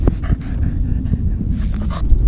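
A dog pants rapidly and heavily up close, with a few small whimpers mixed into the quick breaths.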